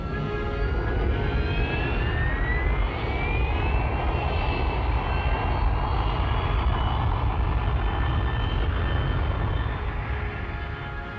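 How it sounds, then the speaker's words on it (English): A Hawker Siddeley Kestrel jump jet taxis nearby with a loud, steady roar and a high engine whine that slowly shifts in pitch, continuous and uninterrupted. "the plane is down, it taxis in under the trees to leave the landing area clear"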